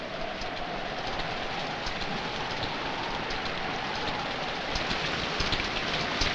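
Heavy rain pours down steadily as a dense, continuous hiss at close range, growing slightly louder toward the end, with no voices.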